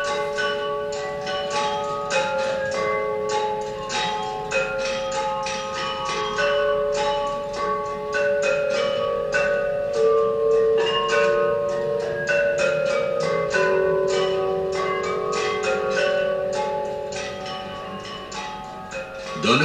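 A Malinovy Zvon chime of church bells rings continuously and loud, many overlapping strikes and sustained tones layering into a dense, shimmering peal that carries on throughout without voices.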